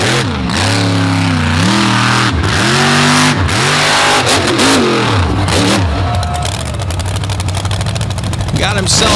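A truck engine revs hard at an all-stars event in Naples, rising and falling in repeated loud surges before settling into a rough, rattling roar, close to the listener.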